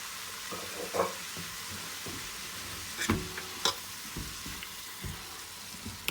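Boiled chicken stirred into spring roll stuffing in a pan, giving a steady sizzle with a few sharp scraping knocks of the spoon near the mic, and no talking.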